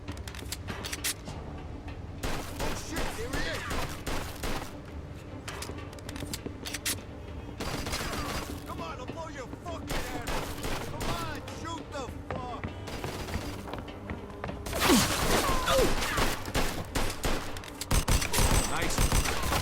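Gunfight in the Mafia II video game, with bursts and rapid volleys of gunshots arriving in clusters, a heavy stretch of firing near the end, and game voices mixed in.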